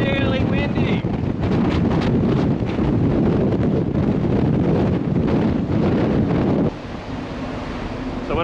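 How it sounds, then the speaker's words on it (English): Strong wind buffets a ship's deck off Melbourne, a loud, steady roar and rumble that fills nearly the whole stretch and eases a little near the end. "Really windy."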